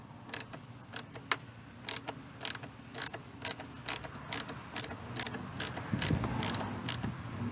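A 1/4 inch driver ratchet turns a star-type E-Torx headlight screw on a Buick Regal, giving a string of short, sharp metallic clicks at an uneven pace over a low background hum.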